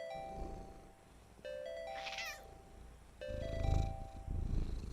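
A cat purrs in the video game Creepy Shift as it is petted, a soft low rumble that swells in two stretches, accompanied by chiming, bell-like game tones.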